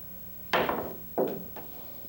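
Pool balls clacking during a three-cushion trick shot on a pool table: a sharp cue ball strike, then a second crisp hit and a fainter knock, close and distinct with no talking.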